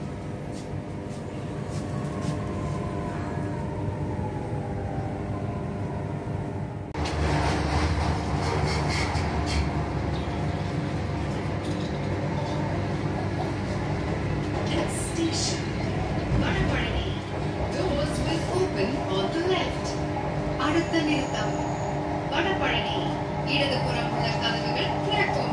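A Chennai CMRL metro train runs between stations with a continuous rumble that grows louder partway through, with faint wheel and rail noise under a voice talking.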